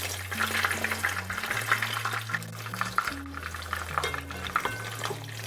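Schnitzel frying in a pan, giving a steady close sizzle and crackle under quiet background music, without talk.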